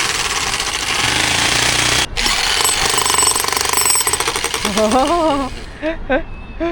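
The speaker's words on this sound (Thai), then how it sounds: "ขุดจริงเจาะจริงนะคะ ตรงพื้นหน้าร้านกันเลยค่ะ" A jackhammer drills into the ground in front of a shop during a demonstration at a market in Weinan, China, hammering loudly and steadily at close range before stopping, with voices talking over and after it.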